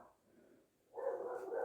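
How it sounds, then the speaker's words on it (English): A dog barks faintly in the distance, a quiet muffled yelp followed by a louder sustained bark or whine near the end. "Sorry about the barking, but"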